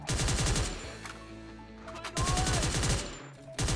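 Rapid bursts of automatic gunfire in the video game Free Fire, loud and close, arriving in several volleys with short pauses between them.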